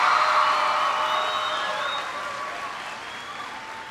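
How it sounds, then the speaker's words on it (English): Students at a school give a round of applause, a broad crowd of clapping hands with faint cheers and whoops, loud at first and slowly thinning over a few seconds. "Give yourselves a big round of applause."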